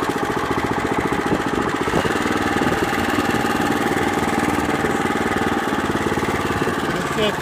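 Eurosystem RTT3 rototiller working as a cultivator at low RPM and shallow depth, its small engine chugging loudly and continuously with a rapid, even knocking pulse throughout.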